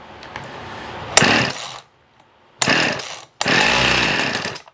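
A Husqvarna 50 Rancher chainsaw on full choke, recorded close up: a short idle rattle, then the engine catches and revs hard for about half a second before cutting out. Two more loud, sustained bursts of running follow after a brief silence.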